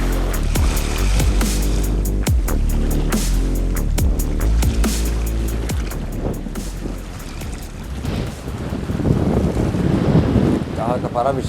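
Cold autumn wind buffeting the microphone at a seaside fishing spot near Yeosu, a steady loud rush with gusts and faint water sounds throughout.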